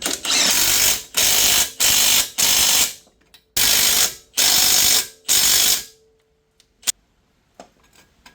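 Ratchet wrench tightening the bottom coilover bolts on a 2000-2003 fifth-generation Nissan Maxima during a Godspeed coilover install, heard as seven loud, close bursts of rapid clicking separated by short pauses, then quiet with a couple of faint knocks.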